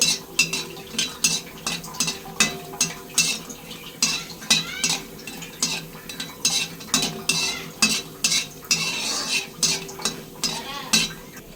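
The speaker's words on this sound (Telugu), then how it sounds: "అలాగే ఇలాగా అన్నీ వేయించుకోండి" Pesara vadiyalu, moong dal fritters, frying in a pan with repeated stirring and scraping of a utensil against the metal in a steady rhythm over a low sizzle, close and fairly quiet, no voices.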